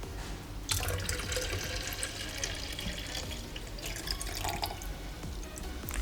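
Water being poured into a container for a water-tank level indicator circuit: a steady, faint rushing and splashing of liquid running continuously throughout, with no voices.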